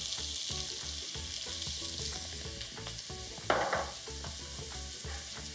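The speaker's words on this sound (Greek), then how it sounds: "Σοτάρουμε, όπως είπαμε, καλά το κρεμμύδι και τα μπαχαρικά και τα μυρωδικά." Onion, allspice, black pepper and cinnamon sticks sautéing in a pan for a braised mutton dish, a steady loud sizzle with repeated stirring scrapes and one sharper burst of spitting partway through, no voices.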